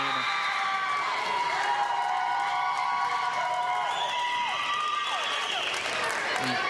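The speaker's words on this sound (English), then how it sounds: "The Eagles crowd loves the defensive intensity." The home crowd at a state girls' high school basketball third-place game cheers and applauds steadily for several seconds, a dense, continuous roar with high whoops and squeaky shoe or whistle-like tones above it.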